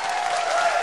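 A crowd at a professional nine-ball match between Efren Reyes and Jim Rempe breaks into steady applause, a dense wash of clapping close and continuous.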